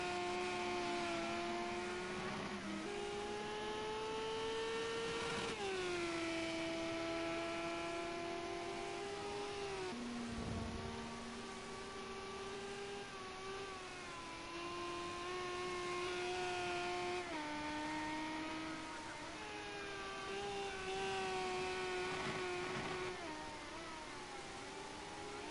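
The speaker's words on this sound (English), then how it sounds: "And the Renault Megane V6 is a fantastic car to drive." Renault Megane V6 race car engines in the video game Project Cars 2, a continuous high-revving whine that climbs and drops with repeated gear changes over about 25 seconds, loud and steady with no talk.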